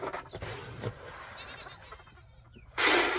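A goat bleats amid outdoor farmyard background noise, followed by a sudden loud rustling burst at the end.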